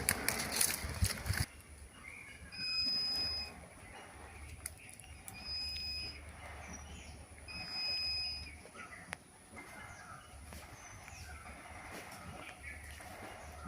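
A GR 1000 V2 gem detector scans for gems, giving faint, repeated electronic tones in short bursts every couple of seconds over a quiet outdoor background.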